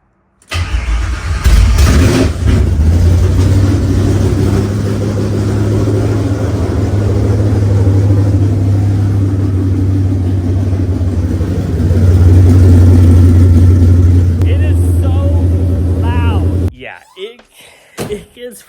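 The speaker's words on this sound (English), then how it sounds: "let's go ahead and fire her up." A Coyote-swapped classic Ford Mustang with new exhaust cranks and fires up, then settles into a loud, deep, rumbling idle with blips of revving close by, before the engine cuts off near the end.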